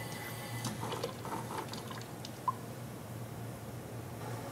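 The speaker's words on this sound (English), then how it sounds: "overflow goes from gushing water to a quick vibrating hammering sound to a smoother flow to a steam and water mix" Steam injector overflow on a steam locomotive, water spilling and gurgling faintly at a distance with a few soft rattling and knocking sounds over a steady low hum, one sharp click near the middle.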